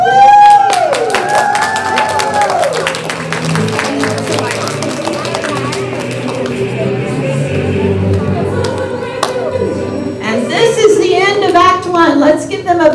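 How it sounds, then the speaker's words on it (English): A crowd at a children's opera performance cheers, claps and whoops throughout, with excited voices and shouting layered over scattered applause, loud and close. "They exchange flags amid the cheers and applause of the pirates and the maidens"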